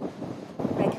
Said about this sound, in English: these winds are strong and potentially damaging